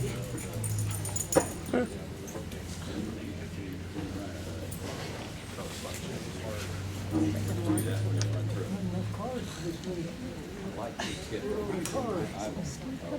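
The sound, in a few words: dog whimpering and yipping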